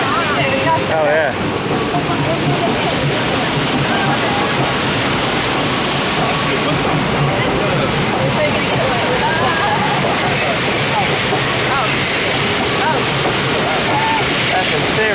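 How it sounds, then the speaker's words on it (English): Rushing, splashing water on the Kali River Rapids raft ride, a loud continuous broadband roar with surges, with excited voices of riders talking and exclaiming over it. "That's some serious water going on there."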